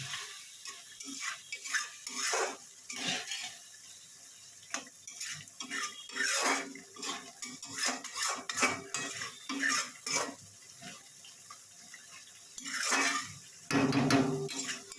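A spoon stirring Tangra fish curry being cooked dry with ground garam masala in a pan, giving repeated scraping and clinking strokes against the metal in an uneven rhythm, close and clear with no voices.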